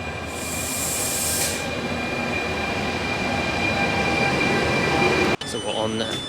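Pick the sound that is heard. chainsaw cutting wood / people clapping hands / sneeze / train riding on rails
train riding on rails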